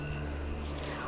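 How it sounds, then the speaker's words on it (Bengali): Crickets chirp at night in a steady, continuous trill with no other sounds over it. "ঝিঝি পোকার ডাক।"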